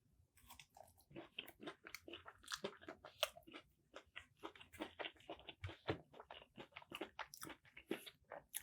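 Close, crisp chewing of garlic parmesan chicken tenders, irregular crunchy bites and wet mastication repeating steadily throughout, loud and alone with no talk.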